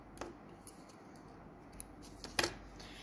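Scissors cutting crochet yarn after finishing a granny square round, a few faint quiet snips and clicks close by, the last one the clearest, over a soft background hiss.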